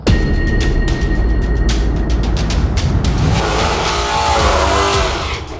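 A drag car engine revs hard while staging at a drag strip, a loud continuous roar with rising and falling pitch from start to finish, up close and without talk.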